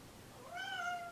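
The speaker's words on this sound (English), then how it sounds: "That's my cat." A pet cat gives a single clear meow close by, a short rising and falling call in an otherwise quiet room.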